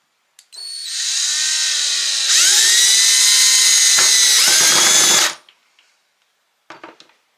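A power driver sinks small rusty screws through an emblem into wood, a loud sustained whine rising in pitch over about five seconds, then stopping, with a couple of short clicks afterward.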